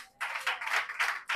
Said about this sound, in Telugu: నమ్మేవారు మాత్రమే మంచిగా దేవుడికి చప్పట్లు కొట్టండి.